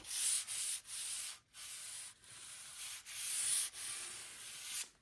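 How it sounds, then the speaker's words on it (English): Hand sanding of dried wood filler on a DIY over-toilet storage shelf, heard as repeated close, rhythmic back-and-forth rasping strokes, about eight passes with short pauses between them, with no talking. "sanded the excess off smooth once dry"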